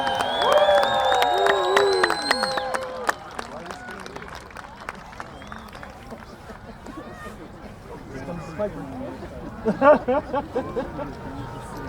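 A crowd at a Scottish festival's closing massed pipe band ceremony cheers and calls out over a lingering tone, followed by scattered claps and rising shouts, with a voice among them.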